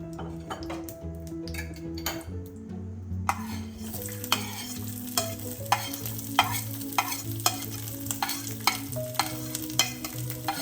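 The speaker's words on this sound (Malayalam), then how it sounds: "ഇനി ഇത് ബ്രൗൺ കളർ ആകുന്ന വരെ വഴറ്റി കൊടുക്കാം" Amrutham powder mixed with ground cardamom is stirred and roasted in a pan for kottika, a Kerala snack, with a spoon scraping rhythmically against the metal under a steady sizzle, the clicks growing sharper and more regular.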